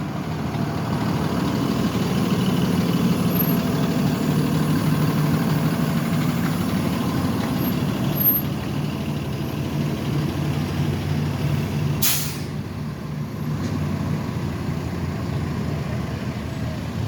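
An MBTA bus sits idling in slow traffic on a Boston street, a steady low diesel rumble that carries on unbroken at moderate level, with no one speaking over it.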